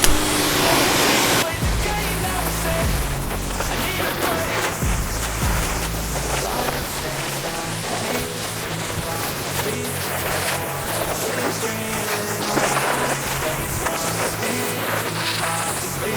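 A steady, close hiss of water spray rinses dish soap off a motorcycle, running unbroken for the whole stretch over a constant background music bed.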